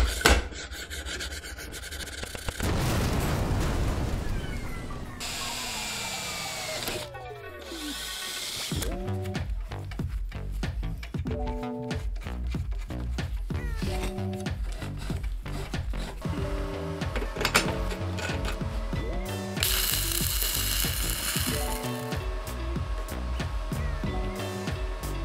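A homemade lathe spinning after its burrs were cleaned off, a close mechanical whir with rasping, rubbing contact sounds that rise and fall and shift in pitch, including one slowing wind-down partway through, with no talking.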